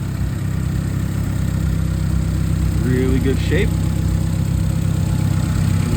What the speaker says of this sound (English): this is how it sounds when it is running under the hood